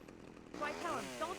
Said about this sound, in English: Alright, so we get a chainsaw,